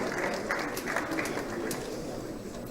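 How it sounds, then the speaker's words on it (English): An audience at a formal inaugural lecture claps to welcome a professor, giving dense, steady applause at moderate loudness throughout. "Can we please have that round of applause as loud as can be for Professor Dakas, C.J. Dakas, SAN."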